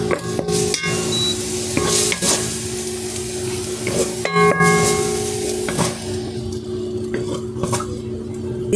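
Minced pork and garlic sautéing in a pan, with a steady sizzle under repeated metallic clanks and scrapes of a spatula stirring against the pan.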